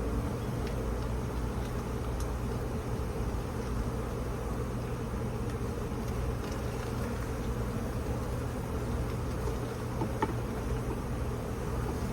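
Honey bees drone around an open beehive while it is being inspected, a dense, steady buzz filling the whole stretch at close range, with no talking.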